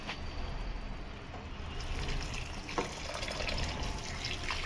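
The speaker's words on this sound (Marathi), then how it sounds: "आता गरम पाणी टाक." Hot water poured into a pressure cooker holding chicken curry with spices, a steady broad rushing pour running throughout at moderate level, with no talk.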